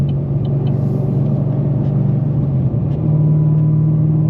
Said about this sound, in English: everybody loves a supercharger when it whines